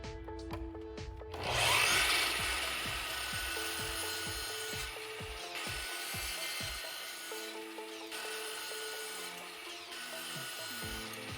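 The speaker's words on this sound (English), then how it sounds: "I had the miter saw available again, so I set up the fence and cut the bracing pieces to 44 inches long" Miter saw cutting wooden bracing boards to length for adjustable display shelves, a brief loud burst of blade noise followed by a steady workshop hum with repeated knocks and handling sounds.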